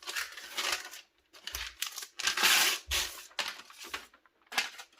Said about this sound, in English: So we just unwrap this here.